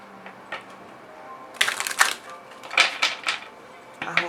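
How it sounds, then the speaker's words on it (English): Oracle cards being gently shuffled by hand, a series of brief papery riffles and soft slaps in uneven bursts, close and moderately loud over a quiet room. "I'm just going to do this kind of shuffle."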